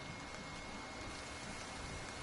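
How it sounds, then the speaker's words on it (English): Steady, even rain hisses in a PS4 video game, a soft continuous wash of falling water with no pauses and no voices. "It's all rainy and shit."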